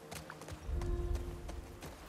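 Rhythmic hoofbeats of a galloping horse in The Last of Us Part II, evenly spaced thuds under a low rumble, close and moderately loud.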